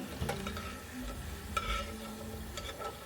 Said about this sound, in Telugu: వీటిని కొంచెం గట్టిపడే వరకు ఉడికించుకోండి.